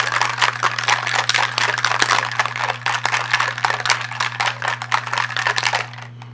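Ice rattles hard and fast inside a metal cocktail shaker, a steady dense clatter for several seconds at a bar, close and loud, ending abruptly.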